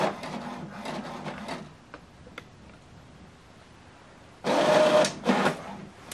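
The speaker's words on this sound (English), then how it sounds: "So this document now is printing." An HP Deskjet 2820e inkjet printer runs a print job, with clattering mechanical bursts at the start, a quieter stretch of faint ticks in the middle, then a louder whirring feed burst near the end, heard close with no talk.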